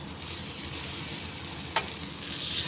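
A pan of fried rohu fish sizzles steadily with a constant close hiss as mashed tomatoes go in, bringing one brief sharp clatter partway through before the frying noise swells slightly.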